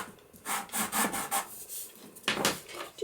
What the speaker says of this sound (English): use my bone folder to burnish that down